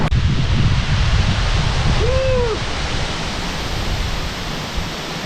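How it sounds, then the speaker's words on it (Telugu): Muthyala Dhara waterfall in Telangana roars as water falls from a height, a broad, steady rushing wash that fills the whole clip; a faint bird call rises briefly partway through. "ఇప్పుడు మీకు కనిపిస్తున్న వాటర్ ఫాల్ పేరు ముత్యాల ధార వాటర్ ఫాల్ అని చెప్పేసి."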